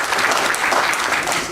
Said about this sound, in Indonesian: kita tepuk tangan dulu Bapak Ibu